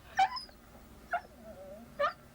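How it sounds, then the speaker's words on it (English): A dog gives three short yips or barks spaced about a second apart, near and fairly loud, with a faint whimpering tone between them and no talk. "barking again and getting on my nerves again"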